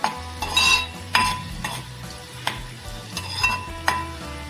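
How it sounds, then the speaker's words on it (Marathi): Garlic frying in hot oil for a Maharashtrian dried fish dish, a steady close sizzle broken by repeated scrapes and clinks of a spoon stirring against the pan, with no talking. "लसूण आपल्याला हा थोडासा गोल्डन होईपर्यंत परतून घ्यायचा आहे"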